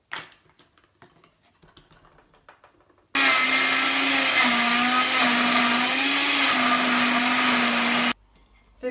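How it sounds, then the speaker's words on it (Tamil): A mixer grinder blends green juice of apple, grapes, spinach and ice, first with scattered clicks and knocks, then a loud steady whirring roar for about five seconds before stopping abruptly. "உங்கள் மிக்சியில் 10 அளவு போட்டுக்கோங்க, இல்லை 2 ட்ரிப்பாக அரைச்சிக்கோங்க"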